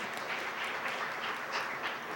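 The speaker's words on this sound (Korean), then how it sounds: "큰 박수로 모시겠습니다." Applause from a seated audience at a security forum on cyberspace conflict, an even, steady patter of many hands clapping throughout, moderately distant and without any talk.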